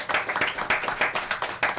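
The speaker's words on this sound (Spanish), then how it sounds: "el aplauso para la abogada." An audience at a community event against hate, hosted by a mayor, applauds in a steady patter of overlapping claps, moderately loud and fairly close, for the whole short stretch.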